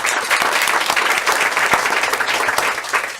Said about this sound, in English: Can we please give those two students a round of applause?